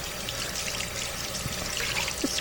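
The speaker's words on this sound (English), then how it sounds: "Let me rinse it off." Water from a tap runs steadily over a juicer part as it is rinsed, a continuous close splashing trickle with small bursts of dripping and no talking.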